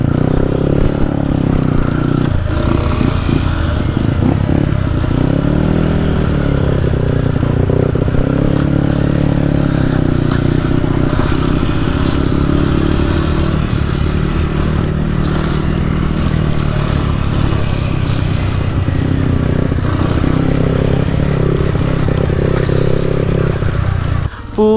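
Motorcycle ridden along a long mountain trail through Kayapa, Nueva Vizcaya, its engine droning steadily and close throughout with clattering and scraping from the rough, muddy ground.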